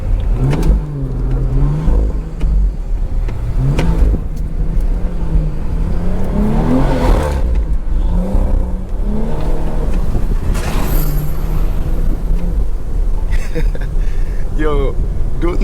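A BMW 340i xDrive's engine revs repeatedly in rising and falling surges while the car slides through snow downtown at night, the engine close and steady under ongoing talk inside the car.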